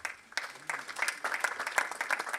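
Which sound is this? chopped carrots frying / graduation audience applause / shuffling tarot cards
graduation audience applause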